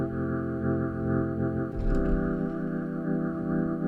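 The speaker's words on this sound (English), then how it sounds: "So for my second instrument, I'm gonna use this sound called chill organ." Chill organ synth patch layered as a subtle texture in an R&B beat-making session, sustaining smooth harmonic chords that shift midway with a soft change, played alone at moderate level.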